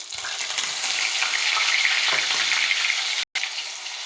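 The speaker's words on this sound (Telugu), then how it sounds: "ఆనియన్ పేస్ట్ ఫ్రై అవుతుందండి" Onion paste sizzles steadily in a hot pan, a dense continuous frying hiss that stays loud and close with only a brief break near the end.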